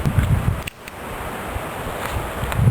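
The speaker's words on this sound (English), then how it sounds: "It is so windy." Strong outdoor wind buffets the microphone in steady gusts at a camp where deer meat is cooked on an alcohol stove, with rumbling low bursts and a continuous airy roar.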